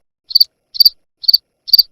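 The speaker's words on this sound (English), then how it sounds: "Say, crickets." Crickets chirp as a sound effect in four short, evenly spaced bursts, each a rapid trill of a few pulses, bright and clear against silence.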